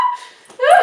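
A small dog wearing a green neckerchief gives a high, thin whimper that fades, then a short rising yip, close to the microphone with no talking.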